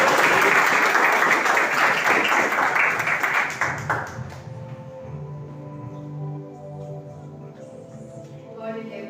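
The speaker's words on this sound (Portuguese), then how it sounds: "Salve de palmas" A church congregation bursts into loud, dense applause that lasts about four seconds, then gives way to softer sustained tones and a quieter room.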